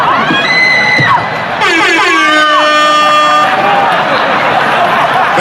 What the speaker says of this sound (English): That air horn always pushes the joke through.